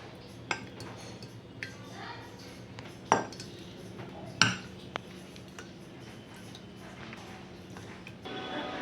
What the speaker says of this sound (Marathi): आता आपण पूर्ण लोणचं याच्यामध्ये भरून घेऊया